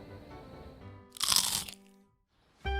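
A single loud, close crunch of crispy Korean fried chicken (dakgangjeong) with snow crab sauce, bracketed by quiet room sound and a soft thump at the end.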